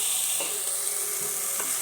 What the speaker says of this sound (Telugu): బాగా వేగించుకోవాలి.